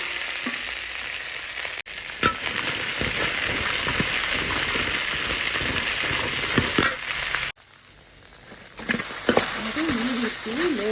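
Okra frying in oil in a pan, a steady loud sizzle that drops briefly before resuming, with a voice speaking over the crackling near the end.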